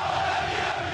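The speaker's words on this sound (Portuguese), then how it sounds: "Mas a torcida da Ponte solta a voz." Ponte Preta football supporters chanting in the stands during a Brazilian league match against Corinthians, a broad, steady roar of massed voices heard from a distance, continuous and unbroken for a brief moment.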